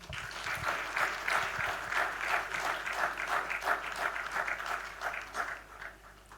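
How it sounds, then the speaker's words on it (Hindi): An audience at a youth retreat thanksgiving ceremony at St. Xavier's College claps steadily, a full, even roll of applause that carries at a consistent level for the whole stretch without any talking over it. "इसके लिए भी जोरदार तालियां।"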